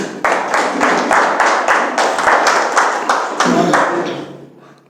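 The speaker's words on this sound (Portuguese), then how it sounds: "Batendo as palmas para Cristo." A church congregation clapping hands together in a steady, rapid rhythm, loud and close, fading out toward the end.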